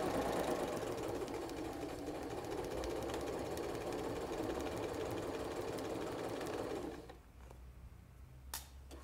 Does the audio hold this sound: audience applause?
no